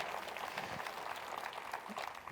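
Church congregation applause as a steady wash of clapping from a crowd, sustained throughout without pause.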